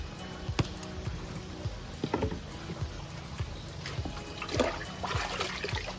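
Water sloshes and trickles as it is scooped and poured to mix bio fertilizer, soft splashing with a few louder pours, nearby and without talk.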